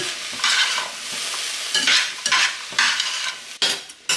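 Diced peeled potatoes are stirred into a chorizo mixture frying in a pan. Loud scraping strokes and clattering come in uneven bursts over a continuous sizzle.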